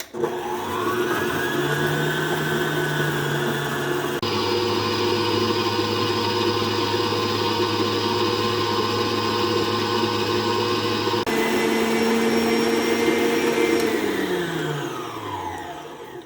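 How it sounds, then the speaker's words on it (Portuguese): An electric mixer creams softened butter with sugar for a buttery coffee cake, whirring loudly and steadily with a shift in motor pitch partway through before winding down at the end. "A gente vai bater até isso aqui virar um creme fofo"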